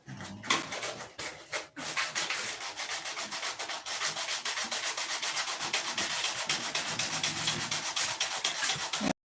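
A 320-grit sanding block rubs back and forth across wood in fast, steady, continuous strokes, close and fairly loud, with a few irregular scrapes at the start before the even rhythm settles in.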